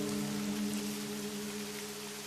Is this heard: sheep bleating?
no